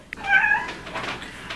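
A house cat gives a single drawn-out, strained meow close by, rising and wavering before trailing off, with a faint knock just before it.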